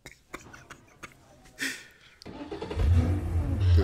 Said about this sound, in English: Starting a car in a crowded showroom?